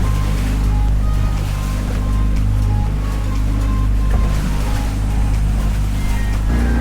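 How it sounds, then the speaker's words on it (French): A small license-free motorboat runs at sea, its steady motor drone joined by the slap and rush of choppy waves and wakes from jet skis and larger boats, loud and continuous throughout with no talking. "on doit prendre les vagues des jets et des gros bateaux"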